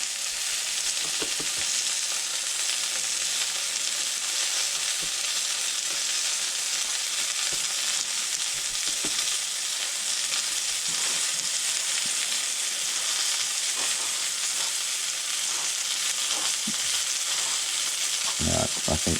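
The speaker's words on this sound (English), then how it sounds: "It really is just frying off meat." Venison meat sizzles and fries steadily in a pan, a dense, loud hiss with occasional pops and crackles and a brief clatter near the end.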